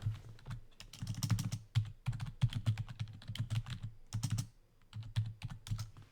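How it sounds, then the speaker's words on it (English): Typing on a computer keyboard while playing a game, rapid bursts of close, crisp keystrokes in uneven runs separated by short pauses, fairly loud with no talking. "It's weird typing whenever you can't see what you're typing"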